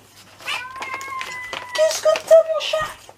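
A pet cat meows at home near a crafting table, a few drawn-out, wavering cries, loud and close, mixed with a woman's soft chatter.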